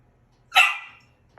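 A puppy gives a single sharp, close bark in a home kitchen, alone and loud.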